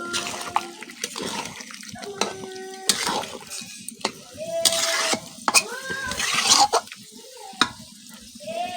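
Chicken curry with papaya and potatoes being stirred in a pot full of released juices: wet scraping and sloshing strokes with faint sizzling, close by, with intermittent clinks and some tonal background sounds.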